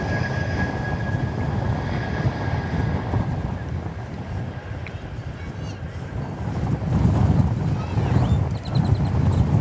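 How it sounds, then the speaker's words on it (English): An American Airlines Airbus A321 arriving at Dallas/Fort Worth airport produces a steady, broad jet roar with wind buffeting the microphone, growing somewhat louder toward the end. "Here comes American Flight 479 from San Diego, California. It's an Airbus A321."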